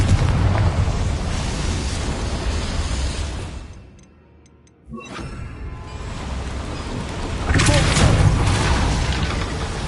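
Confringo spell blast in Hogwarts Legacy inside a goblin mine near a boiler, a dense roaring explosion rumble, a brief near-silent gap, then another loud burst and lingering booming debris, with a voice calling out.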